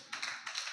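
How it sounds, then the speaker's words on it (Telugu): A church congregation claps hands during a sermon: two short bursts of applause in under a second, fairly faint, with no voices. "చప్పట్లు కొట్టండి."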